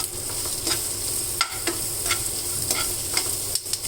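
Onions sizzle in hot ghee with curry leaves for a tempering, a continuous bright frying crackle broken by the repeated scrape and clack of a spoon stirring the pan, with no voices.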